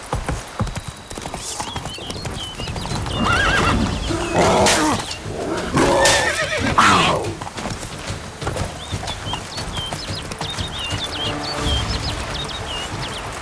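A horse in The Witcher 3: Blood and Wine clip-clops along with rhythmic hoofbeats amid game ambience, while swells of louder rumbling and an animal-like roar rise and fade in the middle.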